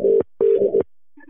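Phone keypad tones dialing a prank call, two short bursts of steady beeping tones followed by a faint ringback tone, with no talking.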